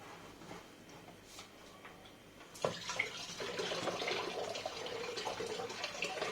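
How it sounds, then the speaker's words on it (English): Apple juice poured in to make cider: a quiet stretch with faint ticks gives way to a sudden gush of liquid that keeps running steadily and fairly loud, splashing as it fills. "this is the second apple juice going in"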